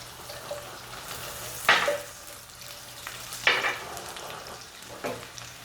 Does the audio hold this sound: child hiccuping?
no